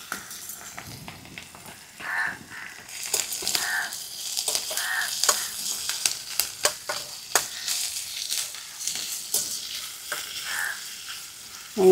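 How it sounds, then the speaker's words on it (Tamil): Sliced onions sizzle in hot oil in a pan for an egg masala, a steady frying hiss broken by repeated scrapes and stirs of a spoon, close and fairly loud. "இப்போ எண்ணெய் காஞ்சிட்டு வெங்காயத்தை போட்டுருவோம்."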